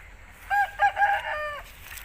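An Aseel rooster gives a single short crow, a few harmonic bursts followed by a sustained note lasting about a second, close and clear against quiet background noise.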